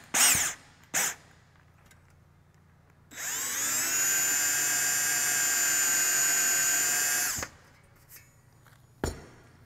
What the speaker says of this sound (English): I can go drill the panel.